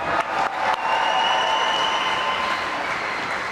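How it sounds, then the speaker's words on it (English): Virtual arena crowd in the boxing game Fight Night Round 4, a dense, steady roar of applause and cheering that swells after a brief dip and holds at full strength throughout, with no one speaking over it. "let's give these two warriors a nice round of applause"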